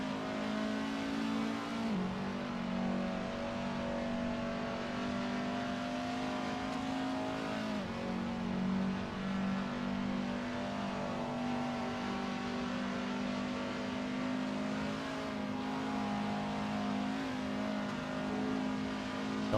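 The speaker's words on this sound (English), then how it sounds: "Onboard view for Eric here as he climbs up the hill behind the Toyotas" Onboard a touring race car climbing the hill at Bathurst, the engine screams loud and steady at high revs, dropping briefly at gear shifts around two and eight seconds before rising again, with no commentary over it.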